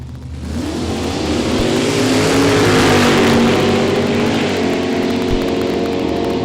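Two drag racing cars, a 1968 Firebird and a 1970 Plymouth Duster, launch off the line together in a loud, sustained engine roar with rising harmonic pitch, holding full power for several seconds at a dragway.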